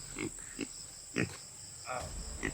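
A pig brought as an offering grunts several times, short low snorts spaced irregularly, faint against a steady background hiss.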